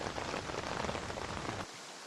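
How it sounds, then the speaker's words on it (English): Steady rain pattering on a tent in the zombie survival game Project Zomboid, a dense soft hiss of drops at moderate volume that abruptly drops off near the end. "You actually have the sound of rain on the tent."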